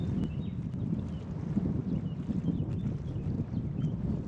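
Wind gusts hard against the microphone on an exposed, foggy stretch during a cycling race in Slovakia, a steady low rumble with buffeting and no talking.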